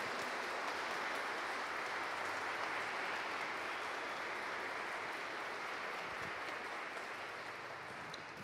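Wedding guests stand and applaud the newly married couple at a church ceremony, a steady, dense wash of clapping that holds evenly throughout and eases slightly at the end.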